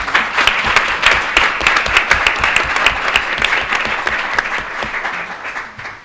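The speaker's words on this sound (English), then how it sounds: "If you would give her a round of applause." An audience at a leadership panel event gives sustained applause, dense and loud from many hands, fading out toward the end.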